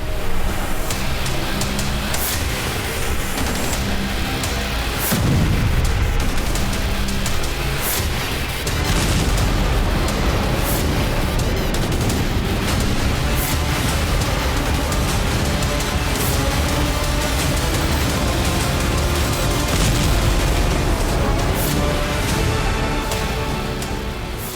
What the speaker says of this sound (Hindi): सेवेस्तोपोल आसमान धमाकों से गूंज रहा था।